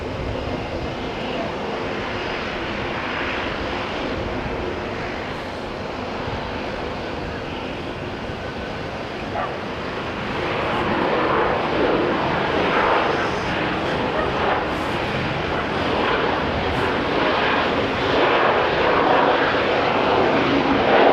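A Qantas airliner, flight QF143 from Sydney, fitted with noisy engines, approaches Auckland International Airport. Its steady, broadband jet roar swells noticeably louder about halfway through and holds strong to the end, with no talking.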